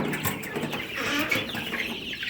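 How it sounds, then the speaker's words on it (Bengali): Fayoumi farm chickens cluck inside a poultry shed, several birds calling over a busy background of rustling and movement, close and fairly soft. "এই হচ্ছে আমার মুরগিগুলা"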